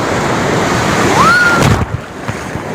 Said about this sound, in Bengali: এই একটা দেখো ঢেউ